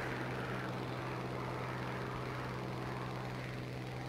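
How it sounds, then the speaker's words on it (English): Propeller plane engine in the combat flight game War Thunder, a loud steady droning hum that holds unbroken throughout with no talk. "Last plane."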